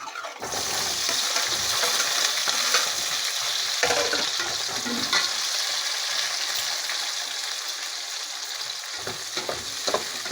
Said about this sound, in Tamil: கத்திரிக்காய் பூண்டையும் போட்டு நல்லா வதக்கிக்கணும்